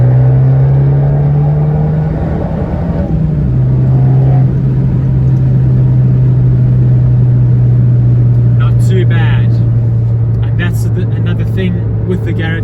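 An Abarth 595 with a Garrett turbo pulls hard in third gear, its engine note a loud, steady drone that drops and climbs again. Wind and road rumble sit underneath, with brief clatter late in the run.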